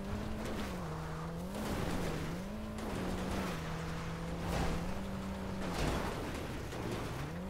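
A small car driven in the video game GTA 5, its engine droning steadily with pitch rising and falling through gear changes, plus occasional tire noise, loud and continuous with no talking.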